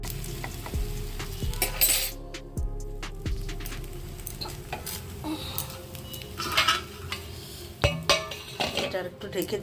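Metal pots and utensils clink and clatter in a home kitchen as a pot of macaroni is covered, several sharp knocks and scrapes near the mic with a voice speaking between them.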